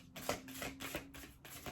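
Large tarot cards being shuffled by hand, with soft rhythmic riffling bursts repeating every fraction of a second, quiet and close with no talking.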